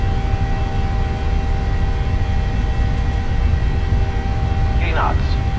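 Jet engines hold a steady, loud broadband roar at takeoff power in Microsoft Flight Simulator, a Jet2 airliner rolling for departure, with a constant tonal whine throughout and a brief voice near the end.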